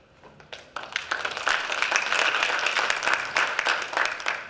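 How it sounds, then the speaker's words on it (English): Conference audience applauds after closing remarks are introduced, clapping rising quickly from a few scattered claps into steady, dense applause that fills the room and holds to the end. "I was waiting for the applause."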